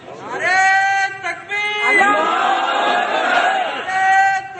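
A crowd at a Muslim religious gathering shouts a slogan in unison, with loud sustained voices rising together in several swelling bursts across the whole stretch.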